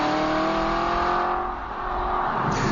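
An Aston Martin Vantage V8 revving close by, a loud continuous engine roar with a brief dip in the middle before pulling hard again.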